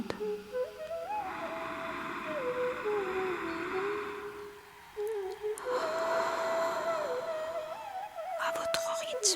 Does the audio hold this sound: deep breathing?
yes